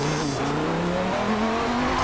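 A Volvo XC90 race build in Forza Motorsport 7 braking hard, engine tone dropping and rising steadily with tire noise, loud and continuous with no talk.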